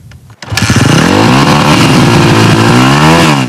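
A motorcycle engine revs hard and loud after a brief quieter start, holding a steady high roar with rising and falling pitch for a few seconds, ridden by a young woman biker in Iran.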